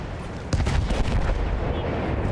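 Enemy artillery booms in the Battlefield 1 video game, a sudden heavy blast followed by a rumbling, crackling tail of smaller bursts and debris over steady battle noise.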